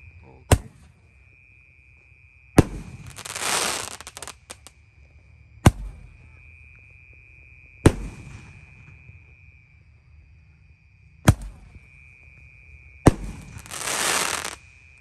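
Jumbo Roman candle fireworks fired at night, a series of sharp loud pops spaced a few seconds apart, some followed by hissing crackle bursts, each shot ringing out over a quiet background.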